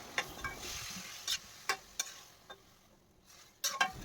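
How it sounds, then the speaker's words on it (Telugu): Chopped tomato pieces stirred into a hot tempering for a tomato egg curry, with a steady frying sizzle under repeated sharp scrapes and clinks of a spatula against the pan. "ఈ పోపుని ఇలా కలుపుకుంటూ ఫ్రై చేసుకున్నాక దీంట్లోకి మనం ఆల్రెడీ సన్నగా కట్ చేసి పెట్టుకున్న టమాటా ముక్కలను కూడా వేసేసి కలుపుకోవాలి"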